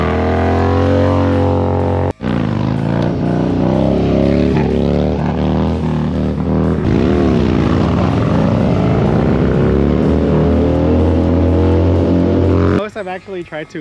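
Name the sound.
motorcycle engine revving during riding practice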